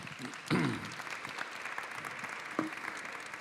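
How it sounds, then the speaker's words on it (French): An audience at a youth and Covid talk event claps steadily throughout, with a louder burst of applause near the start that settles into sustained clapping. "On peut applaudir nos invités."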